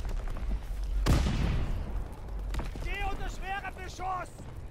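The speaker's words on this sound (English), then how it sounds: "I'm running around with a nade launcher." A grenade launcher fires in the World War II shooter Call of Duty: WWII, one sharp loud blast that dies away in a rough decay, followed by more game noise and short voiced sounds.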